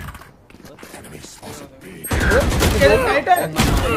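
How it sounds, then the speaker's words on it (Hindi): Weapon handling in the tactical shooter Valorant: quieter mechanical clacks and ratcheting of a reload, then loud rapid gunfire and impacts in the second half, close and dense. "रीलोड"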